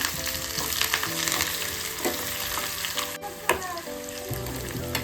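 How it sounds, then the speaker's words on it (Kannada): Mustard seeds, chana dal and urad dal crackle and sizzle in hot oil for a tempering, a loud, busy frying hiss with sharp pops. Faint steady tones sit underneath. "ಸಾಸಿವೆ, ಕಡಲೆಬೇಳೆ, ಉದ್ದಿನಬೇಳೆನ ಈಗ ಹಾಕೊಳ್ಳೋಣ."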